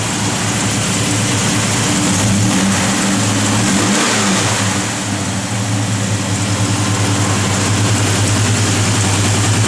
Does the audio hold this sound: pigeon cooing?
no